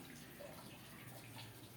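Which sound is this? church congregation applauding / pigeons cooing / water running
water running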